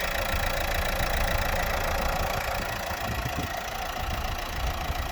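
A 2016 Renault Megane 3 estate's 1.5 diesel K9K engine idles with a steady, even clatter and rumble, close and continuous, with no voices.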